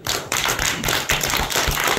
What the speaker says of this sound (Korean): 여러분들 다 같이 이왕이면 박수는 힘차게